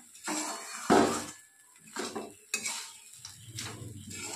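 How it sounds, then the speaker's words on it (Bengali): A spoon stirs chire polao (flattened rice pilaf) in a pan as the sugar melts, with soft scrapes and clinks of metal against the pan over a faint sizzle, close and quiet with no talking. "এবার নেড়ে চেড়ে নামিয়ে দেব।"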